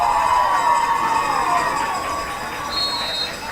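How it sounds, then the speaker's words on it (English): Alberta fans at a women's U18 football gold medal game against Ontario, a loud, sustained crowd roar with whistling and a siren-like tone, continuous throughout. "This Alberta fan base has been loud and consistent all day long."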